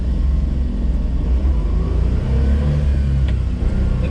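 A kei van's small engine revving loudly in push-button four-wheel drive, a dense continuous rumbling drone close by, steady throughout with slight surges.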